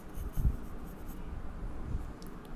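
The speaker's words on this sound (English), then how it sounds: "I am just going to go ahead and draw the right hand as well" A pencil sketches Goku's right hand on paper, giving soft, close scratchy strokes in short irregular bursts with a couple of firmer marks, faint and intimate with no voices.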